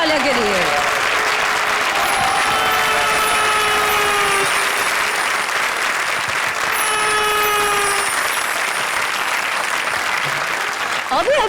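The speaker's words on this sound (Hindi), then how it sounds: "तालियां बजाओ रे हमारे सांबा और कालिया के लिए" Studio audience applause at a Comedy Circus comedy show, loud dense clapping that carries steadily throughout, joined by whistling tones and cheering voices.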